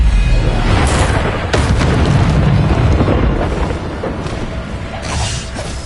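Spell explosions from Bombarda and other combat magic in Hogwarts Legacy, a loud, dense run of booming blasts and crashing bursts with whooshing tails, sustained across the stretch and easing slightly toward the end.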